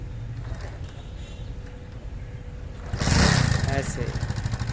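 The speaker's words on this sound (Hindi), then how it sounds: "स्टार्ट करो पहले मोटरसाइकिल को" A motorcycle in a Punjabi village starts up, its engine catching with a loud burst and settling into a steady idle rumble, while people talk nearby over the quieter lead-in.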